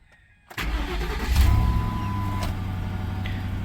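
A car engine cranks and catches after a short silence, then settles into a steady, close idle with a brief rise in revs as it starts.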